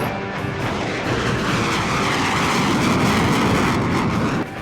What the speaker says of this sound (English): The F-4 Phantom II, affectionately known to its crews as the Rhino, is powerful, fast, loud